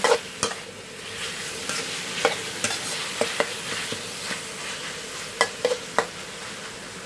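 Chicken offal stir-frying in a pan with kaffir lime leaves, cooked Lao style: a close, steady sizzle broken by sharp spatula scrapes and clacks against the pan at an irregular rhythm.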